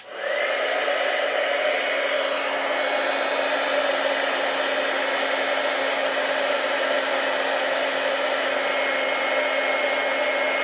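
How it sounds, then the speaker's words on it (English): A heat gun blows with a steady, loud whooshing roar and a faint whine, running unbroken throughout. "So I'm going to turn my heat gun on. It's a little bit loud"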